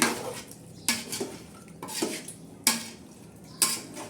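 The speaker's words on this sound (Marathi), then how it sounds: "आपण परत एकदा हलवून घेणार आहोत चिकन चांगलं" A spoon scrapes and clanks against a metal pot four times at a steady pace, stirring chicken in masala for biryani, with soft stirring and scraping between strokes; nobody speaks.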